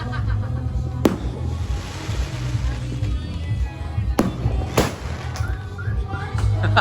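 Sharp bangs of New Year's fireworks pop at intervals, a few close loud bursts over a rumbling background, with people talking throughout.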